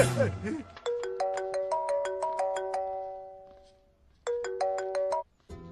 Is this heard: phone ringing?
yes